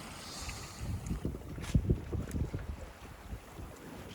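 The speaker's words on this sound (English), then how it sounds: "It's been a nice day of downwind sailing." A sailboat running downwind off the Maine coast, with water washing and sloshing against the hull under gusty wind buffeting the microphone, one louder splash near the middle.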